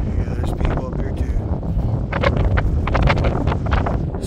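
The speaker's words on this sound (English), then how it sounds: "Sorry for the wind, all the noise." Strong wind buffets the microphone on an open mountaintop bald along the Appalachian Trail, a steady loud roar with gusting rustles, and a person talks faintly beneath it.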